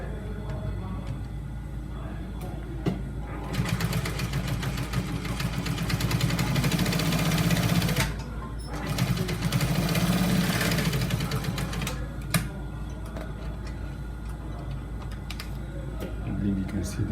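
An electric sewing machine stitches trouser fabric in two sustained runs of rapid mechanical whirring and needle clatter, separated by a brief pause, with quieter room noise before and after.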